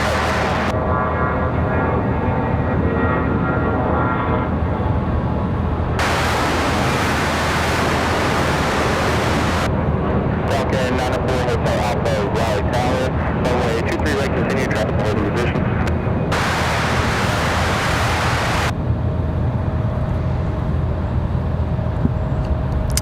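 An airliner landing at Raleigh-Durham airport, a continuous loud roar of engine and wind noise throughout, with a burst of rapid crackling mid-clip and stretches of bright hiss; radio voices speak beneath it.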